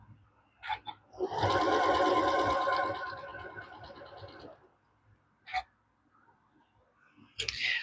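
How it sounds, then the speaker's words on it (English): A sewing machine stitches the corner of a quilt block in a steady, buzzing run of about three seconds, then fades out into a few scattered clicks and handling noises. "we are going to sew one corner"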